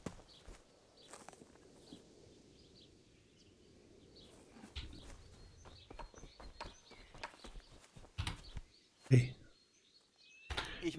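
Horses at a horse trader in Kingdom Come Deliverance: quiet hoof clops and stamping with occasional birdsong, then louder thuds and footsteps as voices talk in the foreground.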